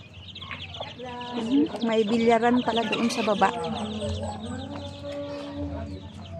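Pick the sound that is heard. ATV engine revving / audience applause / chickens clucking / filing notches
chickens clucking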